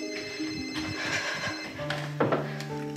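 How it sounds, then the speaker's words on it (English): A cell phone ringtone plays as an incoming call arrives, a repeating electronic tone heard at moderate level over a busy background with faint ticking. "I get a call on my cell phone."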